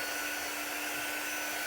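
Hair dryer blowing on a craft project, a steady close, even airy whir with no other sounds.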